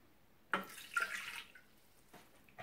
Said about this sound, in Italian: Inseriamo nel boccale l'acqua,